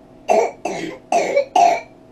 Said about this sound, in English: Don't cough on me. Cover your mouth.